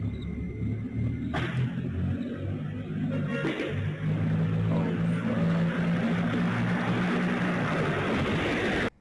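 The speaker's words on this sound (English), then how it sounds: "we hear gunshots and then that same Mercedes car speed through the streets" A Mercedes car speeds through city streets at night in St. Paul, Minnesota, a loud continuous engine rumble and roar that holds steady for several seconds before cutting off abruptly, with no talk.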